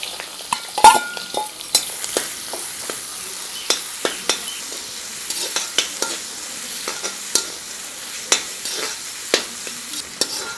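Cut carrots stirred and sautéing in hot oil in a wok, a steady soft sizzle broken by frequent sharp scrapes and clinks of a spatula, close up, with no talking.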